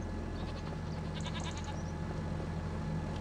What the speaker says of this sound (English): Now, is that a goat? Yeah, it's a baby goat.